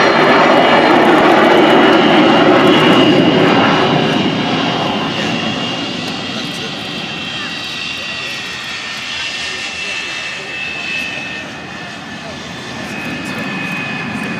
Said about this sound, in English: 3 of the great British aircraft as she comes round the runway